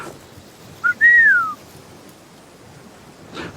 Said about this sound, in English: That was the whistle